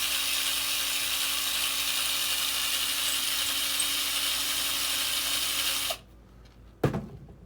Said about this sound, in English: Take a drill bit there and kind of work it around.